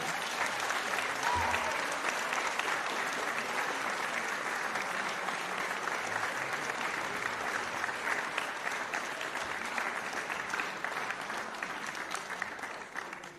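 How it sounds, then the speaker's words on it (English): Audience applause for the musicians at a jazz night concert with NDSU performers. The clapping is dense and steady from a full crowd, holds for over thirteen seconds, and eases slightly near the end. "one more round of applause for these wonderful musicians"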